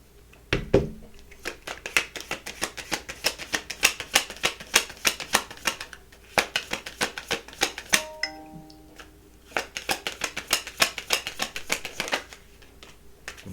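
Tarot cards are shuffled by hand, giving quick rhythmic bursts of riffling and tapping broken by short pauses, with a brief chime partway through.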